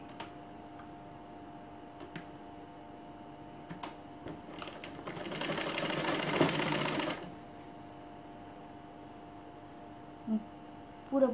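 A sewing machine stitching a twice-folded hem on a gown, one short steady run of rapid stitching after a few faint clicks, close and moderately loud, then quiet handling.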